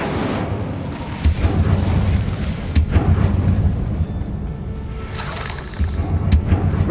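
Incendio fire spells in Hogwarts Legacy erupt in a series of heavy booming bursts, several spaced a second or two apart over a steady low rumble of combat.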